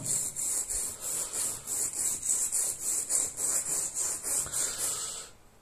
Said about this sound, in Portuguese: Eu vou passar a tampa sobre a lima.